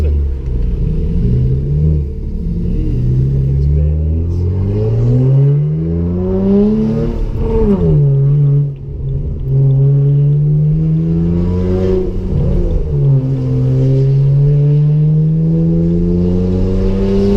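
A BMW N54-engined car accelerates hard through its gears, its rumbling engine note climbing steadily, dropping at each shift and rising again, loud from inside the cabin with a voice talking over it.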